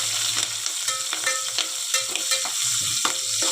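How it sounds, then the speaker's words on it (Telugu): Onions and green chillies fry loudly in a pan for tomato rice, with a constant close sizzle and quick, rhythmic scraping strokes as they are stirred. "ఇప్పుడు ఈ ఆనియన్స్ అండ్ పచ్చిమిర్చిని మంచిగా ఫ్రై చేసుకున్నాం."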